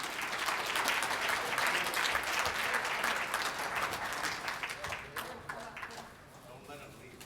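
A conference audience at an Indigenous event opening gives a round of applause, dense crowd clapping that holds steady for about five seconds, then thins into scattered claps and fades near the end.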